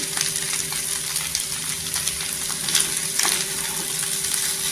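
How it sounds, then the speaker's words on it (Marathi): Potato bhaji with coriander sautéing in a pan, an even close sizzle with light stirring clicks and a faint steady hum beneath. "इथे कोथिंबीर टाकल्यानंतर ती परतून घ्यायची"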